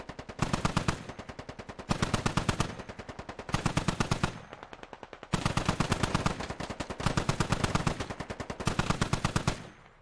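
Sustained automatic gunfire from a military shooter game, with squads laying suppressing fire on a compound in repeated long bursts separated by short pauses, loud and continuous throughout.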